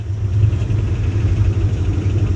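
Old Dodge car, smoking and on a flat tire after sitting for years, with its engine running: a close, loud low-pitched engine drone that holds fairly steady, with slight rises in intensity and no voices.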